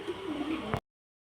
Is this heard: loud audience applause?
no